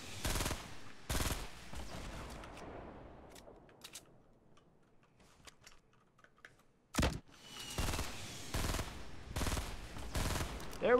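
Bursts of gunfire in a Fortnite match come in quick rapid volleys, loud and close, broken by a quieter gap with faint scattered ticks before the heavy firing resumes.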